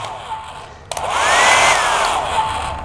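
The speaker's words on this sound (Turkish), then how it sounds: "Evet huzurlarınızda fön makinesini çalıştırıyorum." A household hair dryer switches on with a click and runs with a loud, close whooshing roar, its pitch swelling slightly as it spins up, then holding steady; a voice is faintly present beforehand.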